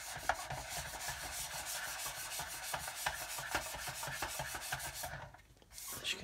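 Steady hand sanding on a car body panel, a fast run of even, rhythmic rasping strokes close by that stops briefly near the end before resuming.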